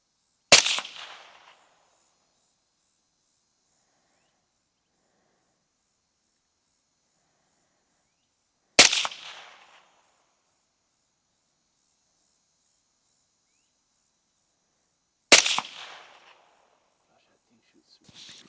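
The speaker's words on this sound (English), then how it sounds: "These first 3 shots here were real quick prone, and they were with some factory 55 grain full metal jackets." Three sharp rifle shots from an MK 12 MOD 1 clone firing factory 55 grain full metal jacket rounds, fired prone at about 100 meters, each a loud crack with a short decaying tail, spaced several seconds apart with silence between.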